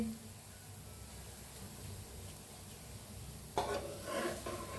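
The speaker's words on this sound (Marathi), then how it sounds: "आता फिरवून घेऊया आपण" Puran poli roasting on a hot pan on full flame, giving a steady soft sizzle that brightens into louder scraping and crackle near the end as the flatbread is flipped.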